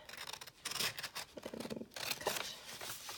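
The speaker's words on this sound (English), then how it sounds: "So take my scissors and" Close-up scissors cutting through paper, a series of crisp snipping and rasping strokes with short pauses between cuts.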